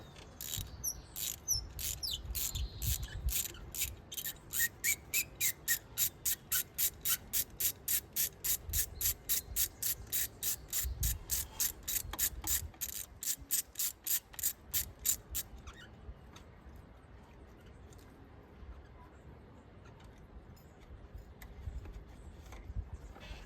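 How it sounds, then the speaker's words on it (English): A ratchet clicks rapidly and steadily, close up, while backing out the cylinder 3 spark plug on a Ford Ranger 2.3 EcoBoost, a long run of even clicks before stopping, then quieter handling noises follow. "Take out the plug for coil number 3"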